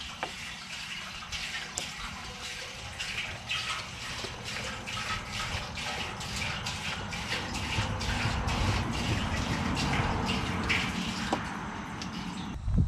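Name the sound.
water being poured into bucket for mixing Quikrete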